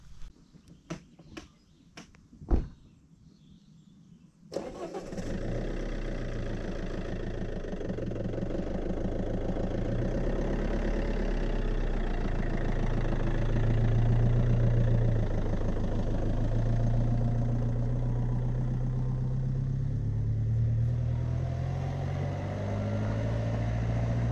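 Camper van engine running steadily while driving on roads in the Erzgebirge of Saxony, a continuous low drone with road rumble. It kicks in after a few seconds of brief clicks and handling sounds and then holds steady.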